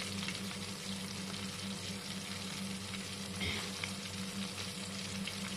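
Coated chicken pieces fry in hot oil in a second pass toward light golden, a steady close sizzle and crackle with faint bubbling, fairly quiet and free of talk.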